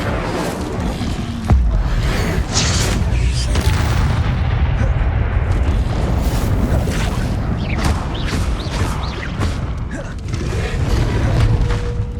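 An Incendio fire spell from Hogwarts Legacy bursts with a deep boom, followed by a sustained roaring, crackling rumble and scattered impacts, loud throughout.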